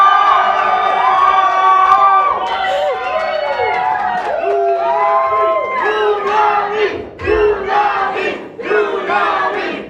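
A large crowd celebrating a win cheers loudly: many voices whooping, yelling and shouting together in rising and falling waves, close and energetic throughout with brief dips between bursts.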